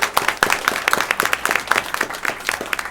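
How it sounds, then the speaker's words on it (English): Scattered hand clapping from a small audience at a regular school board meeting, a short steady round of claps at moderate level with no talk over it. "Let's give them one more round of applause."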